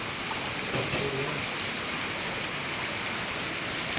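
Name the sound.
rain falling during a flood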